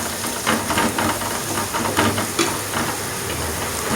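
Food fries in a pan during home cooking, giving a steady, fairly loud hiss and sizzle with faint crackles and soft stirring clatter, no talking over it.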